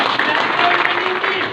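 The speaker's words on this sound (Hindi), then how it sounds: "एक बार जोरदार ताली से इनका स्वागत है।" A village crowd at a BJP candidate's election rally breaks into loud, dense applause, a continuous wash of clapping that holds steady throughout with no voice over it.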